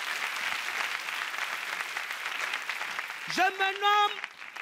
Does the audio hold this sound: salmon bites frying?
no